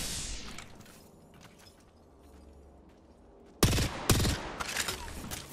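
Gunfire in the battle royale game Apex Legends, with two sharp, loud shots a half-second apart, followed by a rattle of further gunfire and mechanical clatter after a quiet stretch.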